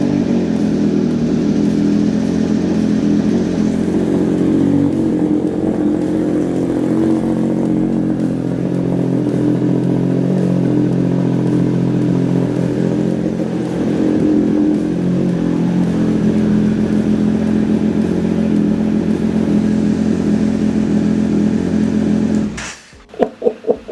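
A Triumph Speed Triple RS fitted with an Austin Racing exhaust, heard close and loud: a deep, steady idle rumble with occasional revs that runs alone for over twenty seconds before cutting off abruptly.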